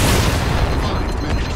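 A gunshot in Halo 2 Anniversary lands as a loud, booming blast with heavy low-end rumble that fills the short moment, with no talking over it.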